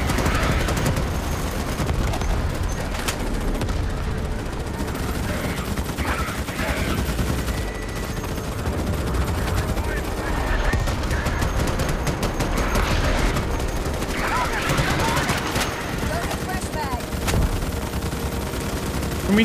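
Dense, continuous gunfire and bombardment from the video game Starship Troopers: Extermination, a steady loud barrage of rapid shots and blasts running throughout with voices faintly mixed in.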